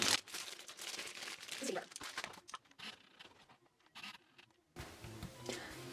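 Plastic packaging around silicone craft pads on handles is crinkled and pulled open, with close rustling, crackling and tearing bursts, and a person talking over parts of it.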